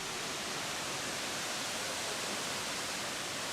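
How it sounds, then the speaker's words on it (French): The Nachi waterfall in Japan, a 133-metre drop heard from a viewpoint, gives a steady, dense roaring hiss of falling water, even and unbroken throughout with no voices. "et la cascade"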